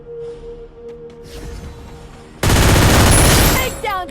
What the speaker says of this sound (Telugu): అరే ఇక్కడే కాల్పులు జరిగినాయి.